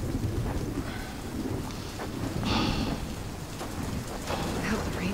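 Heavy rain pouring in a steady dense hiss, with low rumbling and gusty wind beneath, continuous and fairly loud.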